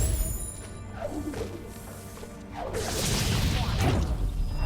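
Enemy projectile shots in Ori and the Blind Forest whoosh and thud in a few soft bursts, moderately loud over a sustained musical background.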